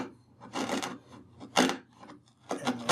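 A chisel trims wooden tenons on a Sheraton bowed chest in three close, rasping strokes. Each pass scrapes crisply, with short pauses between strokes and no talk.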